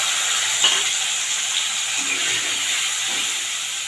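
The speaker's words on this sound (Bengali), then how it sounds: "মশলাটা ভাজা হয়ে গেল, কাঁচা গন্ধটা চলে গেছে।" Ground ginger, garlic, onion and green chilli paste frying in oil for a stuffed pointed gourd curry: a continuous bright sizzling hiss with occasional faint stirring scrapes, close and steady, with no talking.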